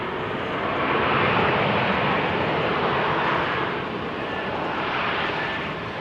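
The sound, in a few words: KLM Embraer 175 jet arriving at Amsterdam Schiphol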